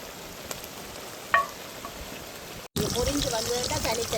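Quiet, steady sizzle of fish frying in hot oil, with a faint clink partway through, then the frying grows louder and crackles more.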